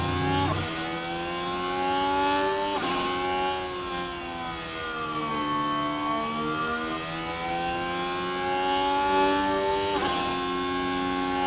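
Formula 1 race cars in the F1 Manager 24 video game, engines whining in steady rising and falling pitch sweeps as cars pass, with a fresh pass roughly every few seconds, loud and continuous, with no talk.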